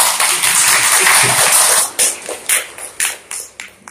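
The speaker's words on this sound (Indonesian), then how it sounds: "Mari kita sambut dengan tepuk tangan" An audience applauds to welcome a speaker at an academic dissertation review event; a dense, steady clapping fades after a couple of seconds into scattered, separate claps.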